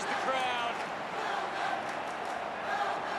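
Stadium crowd roaring after a Melbourne Demons goal against the Adelaide Crows in a 2020 AFL Round 18 match, a sustained, dense wash of cheering with no break across a few seconds.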